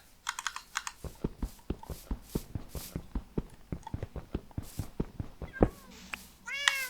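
A cat meows in the Minecraft video game near the end, over a steady run of computer keyboard clicks from typing.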